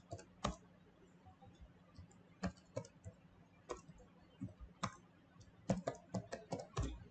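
Typing on a computer keyboard while entering names into an Excel spreadsheet, with quiet, irregular key clicks in short bursts and pauses, the tapping speeding up into a quicker run toward the end.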